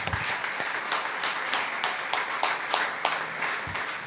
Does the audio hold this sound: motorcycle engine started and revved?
no